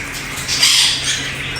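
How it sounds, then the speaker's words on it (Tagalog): A cockatoo in a pet shop lets out a loud, harsh squawk that swells and fades over about a second and a half, close by and with no talking. "Ito nga pala ang mga kakatu."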